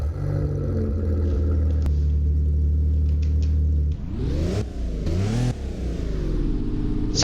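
An economy car's engine in the Roblox game Driving Empire idles with a steady hum, then revs hard several times in quick bursts, pitch sweeping up and dropping, loud and close.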